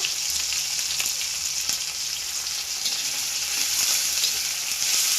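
Tomato and ginger paste frying in a pan, a steady, close hiss of sizzling that runs unbroken throughout, with occasional faint stirring scrapes and no talking.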